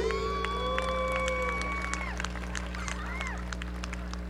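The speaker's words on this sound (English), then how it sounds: "let's give a huge round of applause for Interim Superintendent of Schools, Dr. A" At a 2023 high school graduation ceremony in Edcouch-Elsa, a crowd applauds and cheers for several seconds, with scattered shouts and whoops over steady clapping and a sustained tone fading out early on.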